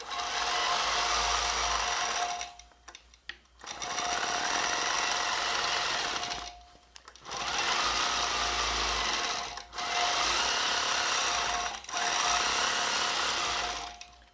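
Longarm quilting machine stitching down fabric for quilt-as-you-go work, running in four steady, loud sustained bursts separated by short pauses, with no talk.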